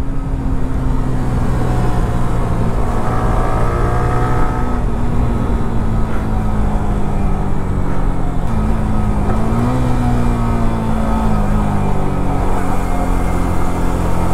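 A Yamaha R15 motorcycle ridden fast gives a steady, loud engine drone with gliding pitch as it revs and shifts, heavy wind rush throughout and no voices.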